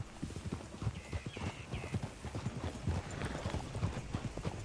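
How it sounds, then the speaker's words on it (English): Horse hooves in Red Dead Redemption 2 clip-clop in a steady walking rhythm, close and fairly quiet. A brief whinny-like call sounds near the start, and no one speaks. "Fine-looking nag there"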